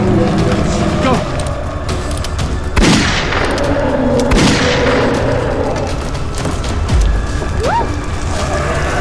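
Sharp gunshot bangs crack out near 3 and 4.5 seconds during a tense night scene, sitting over a constant layer of noise and mixed with hurried voices.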